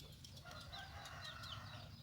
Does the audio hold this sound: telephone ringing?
no